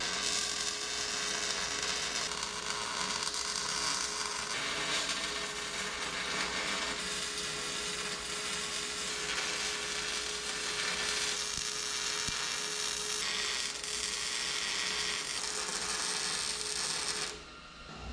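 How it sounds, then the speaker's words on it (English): Welding a cross member on a 1963 Loadstar tilt-bed truck, a steady, continuous buzzing crackle of the weld arc running for many seconds at moderate level before cutting off abruptly at the end. "Let's weld it up."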